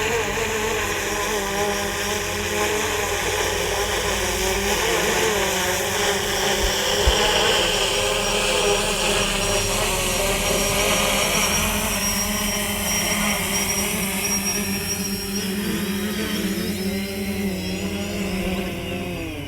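A FIMI X8 SE drone descends to land on a landing pad, its propellers giving a steady, loud, continuous whine and buzz with no talking over it.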